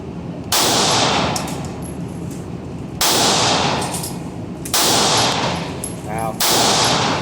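Gunshots at a gun range: three loud, sharp reports spaced a couple of seconds apart, each followed by a long ringing decay, with faint metallic clinks between shots.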